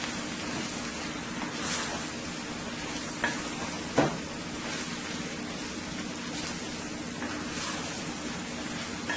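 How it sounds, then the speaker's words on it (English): Spinach fries on high heat in a pan with a continuous sizzling hiss. A few sharp clinks and scrapes of stirring break through at moments. "you want to fry your spinach on high heat"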